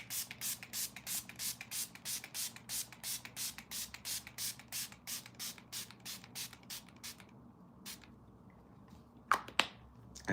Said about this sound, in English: And to do that, I need to spray my face.